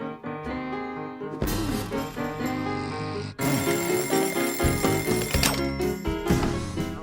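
A bell-type alarm clock rings loudly in a film scene with bright metallic rattling, breaks off briefly, then rings again without a gap.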